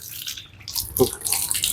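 Water runs from a tap while a dog is bathed, with splashing and a short spatter near the middle, quiet and close.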